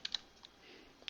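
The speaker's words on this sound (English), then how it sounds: "If I type in this date this way and I hit enter" Several soft keystrokes on a computer keyboard while a date is entered, a few separate clicks in a quiet room with a gap between them.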